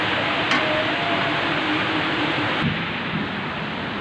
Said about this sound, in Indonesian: lagi hujan deras di sini, jadi agak terganggu suaranya.